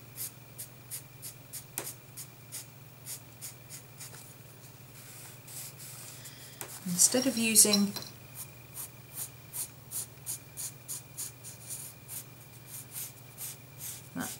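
Freehand drawing with a pencil-like tool on a paper page in a handmade spell book: steady, rhythmic scratchy strokes, close and fairly quiet, with a denser rubbing burst in the middle.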